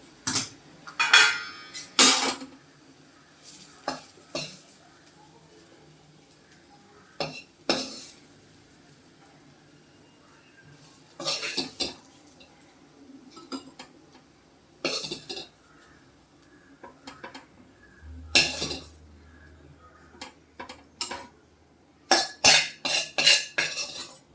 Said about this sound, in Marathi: आपण एक आता बाऊलमध्ये काढून घेऊया